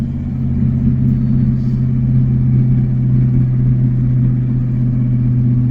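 A rare one-year-only Ford F-250 diesel engine drones in a steady low rumble from inside the cab while the truck downshifts into third gear, the pitch holding fairly even with no talking over it.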